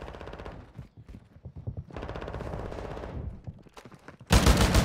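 Shotgun and automatic gunfire in the video game Warzone 2, rapid bursts of shots in clusters with a louder, denser blast near the end, no talking.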